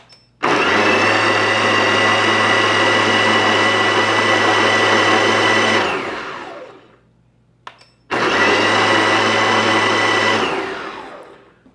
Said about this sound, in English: And then it says just use the pulse button.